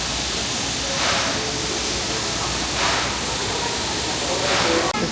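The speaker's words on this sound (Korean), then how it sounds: "일본에 살아있는 증기기관차 SL입니다" The SL Hitoyoshi steam locomotive in Kumamoto, Japan, vents steam in a loud, steady hiss that swells in three slow pulses, heard close by at a station with no clear talk over it.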